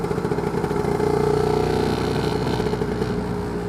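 A Lambretta scooter fitted with a BGM PRO MZ30 exhaust rides along with a steady, buzzing two-stroke engine note, loud and continuous throughout with slight rises in pitch.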